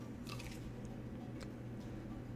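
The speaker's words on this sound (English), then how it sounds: "I don't think I've ever had a crunchy burrito before, but that's close enough" A crunchy burrito being eaten in the video game Star Citizen, a few faint crisp bites and crunches spaced out over a low steady background hum, with no talking.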